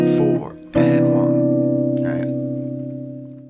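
Jazz guitar chord voicings in a 1-6-2-5 progression, a few sharp strummed chord stabs in syncopated triplet rhythm, each ringing out and slowly decaying, played alone and close.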